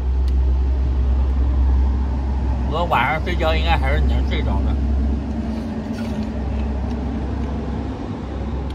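Heavy trucks roll past on a roadside highway beside a tent pitched under a roadside eave in rainy Inner Mongolia, a steady deep rumble filling the whole stretch while someone talks briefly midway.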